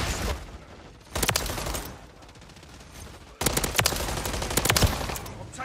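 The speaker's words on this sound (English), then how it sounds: "I'm taking effective fire." Bursts of rapid automatic gunfire from the Modern Warfare 3 video game, two sustained volleys with sharp individual shots over a steady background of game noise.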